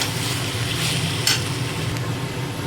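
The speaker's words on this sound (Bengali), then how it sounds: "এবারে এতে একটু অ্যাড হবে কসুরি মেথি। তো এটাকে দিয়ে নাড়াচাড়া করে" Kasuri methi is stirred into a chicken korma curry in a hot pan, giving a continuous close sizzle with a spoon scraping and a brief sharper clink partway through.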